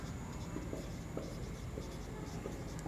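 A pen writes on paper during a Class 12 maths lesson on continuity, giving faint, soft scratching strokes in a quiet room with a low hum behind.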